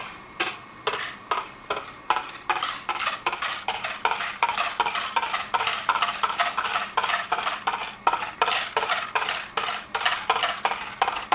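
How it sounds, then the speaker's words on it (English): A whisk beats frozen yogurt ingredients with sugar in a bowl, a steady rapid train of close metallic clicks and scrapes against the sides, continuous and fairly loud with no talking. "Now we just go and we whisk this together until it's smooth"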